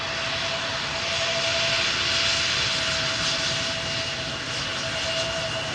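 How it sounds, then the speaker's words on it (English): A Delta A330 taxiing toward the runway threshold at Amsterdam Schiphol Airport gives off a steady, moderately loud jet engine whine with a sustained high tone, heard from a distance with no voices. "you saw the Delta A330, which is going to be number 3. Taxi to the runway threshold."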